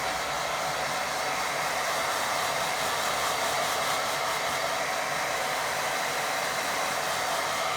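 A hair dryer runs continuously at a gentle setting to dry watercolour paint, a loud steady blowing whoosh with no pauses.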